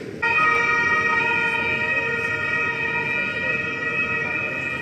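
A loud police siren wails steadily nearby on a street in Rome in the morning, its tones sustained over continuous road traffic noise.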